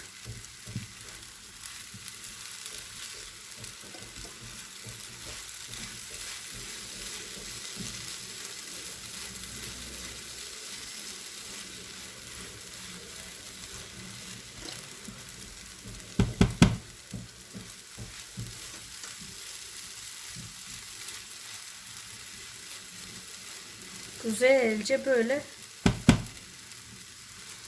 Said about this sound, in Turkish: karıştıra karıştıra kızartacağız arkadaşlar